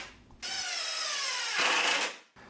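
A power drill drives screws into plywood support pieces for a queen bed frame, giving two close, loud whirring bursts of about a second each with a brief pitch change between them.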